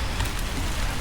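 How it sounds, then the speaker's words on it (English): Heavy rain pours down outdoors at a motorcycle shop in Tennessee, a dense, constant hiss and patter with low rumble and no speech. "It's freaking pouring raining. I mean, it's pouring."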